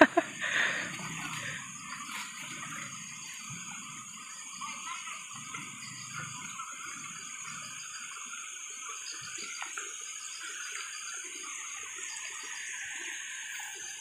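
Steady rushing river water, swollen after overnight flooding, flows throughout, a continuous broadband wash with no talk, fairly close and even in level.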